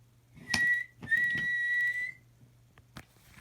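Thomas the steam engine sounds his whistle: two bright, clear toots, the second held longer, close and loud over a low background hum.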